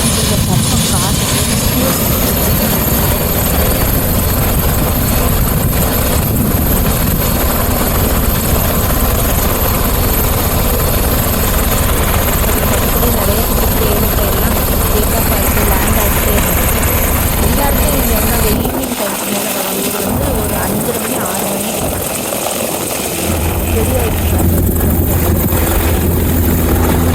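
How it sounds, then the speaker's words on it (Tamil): Helicopter at a small American airport, a loud continuous rotor and engine drone filling the whole stretch, heard up close with wind noise, dipping briefly near the end as it shifts. "இந்த ஹெலிகாப்டர் கூட ஒட்டி ரெடி ஆகிட்டு"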